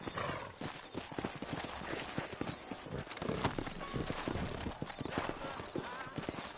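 Horse hooves clip-clop at a walking pace in the Red Dead Redemption video game, a steady run of close, crisp hoofbeats with a neigh, layered under a speaking voice.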